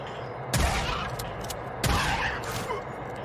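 Two heavy hand-shotgun blasts ring out about a second apart in Days Gone, each with a booming tail, over a low rumbling game background.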